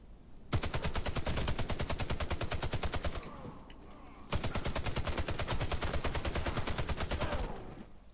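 Automatic gunfire from the Warface video game on PS4 in a team deathmatch: two long, loud, rapid bursts of machine-gun fire, each lasting a few seconds with a short gap between them.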